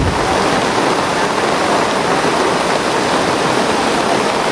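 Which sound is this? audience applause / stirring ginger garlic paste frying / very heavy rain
very heavy rain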